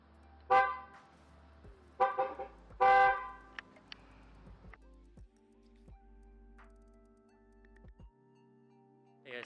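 Short car horn honks, three bursts in quick succession, close and loud, from a car in a home garage during a steering wheel and horn-ground rebuild, followed by quieter clicks and a low hum.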